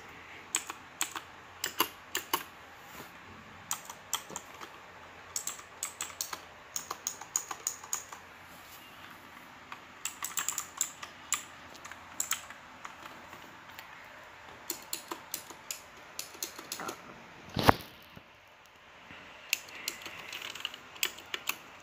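Clicky, irregular keystrokes on a new mechanical computer keyboard tap close by in bursts and pauses, with one sharper clack partway through and a quiet room behind.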